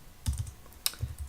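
Keys clack on a computer keyboard as CSS code is typed, a few soft, close taps in an irregular rhythm.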